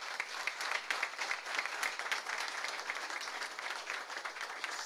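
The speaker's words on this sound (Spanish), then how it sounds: "Si alguien merece un aplauso, Israel Verdugo" A crowd claps steadily at an inauguration ceremony, the applause full and sustained from start to finish with no voices on top.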